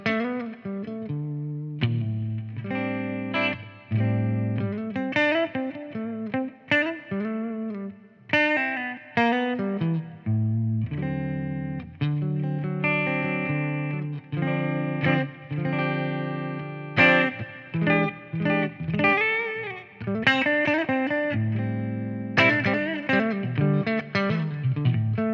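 A clean electric guitar tone from a Laney amp profile running on a TONEX unit, played as continuous chords and melodic lines with ringing sustain, effects-tinged and steady in level, with no talking.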